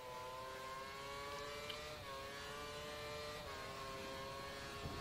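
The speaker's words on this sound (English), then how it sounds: "We think the car behind is running on full revs." A Formula 1 race car engine in the F1 2013 video game holds a high, whining rev on the Malaysian Grand Prix circuit, faint and steady with slight pitch dips.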